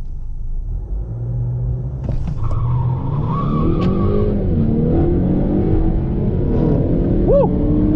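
A Dodge Challenger R/T with a 5.7-liter V8 races around a track, its engine roaring loud and steady with rising and falling revs and a brief tire squeal near the end.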